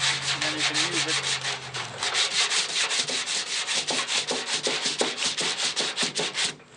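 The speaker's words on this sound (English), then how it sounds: "wrap a piece of this sandpaper around it, and then you can use it" Sandpaper wrapped around a rod rubs back and forth on the curved door skin of a '67 Mustang, a close, rhythmic scratchy rasp of repeated quick strokes following a brief low hum at the start.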